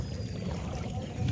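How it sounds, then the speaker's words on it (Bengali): A wooden country boat rocking hard in the middle of a river, heard as a constant rushing wash of water and wind slapping against the hull, loud and continuous with no voices. "একদম নদীর মাঝখানে আছি, নৌকাটা প্রচণ্ড দুলছে,"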